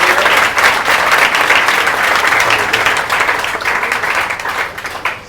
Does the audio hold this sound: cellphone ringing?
no